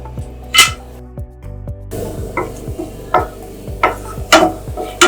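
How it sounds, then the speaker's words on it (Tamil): Cashew nuts fry in ghee in a hot pan, giving a light sizzle under repeated sharp clinks and scrapes of a spoon stirring against the metal, close up and fairly loud. "இதை லைட்டா நம்ம ஃப்ரை பண்ணிக்கலாம்."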